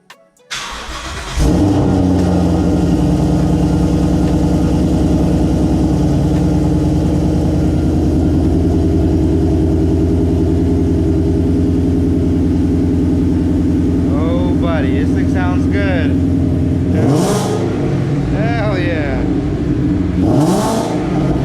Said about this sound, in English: we're about to do the first startup after the headers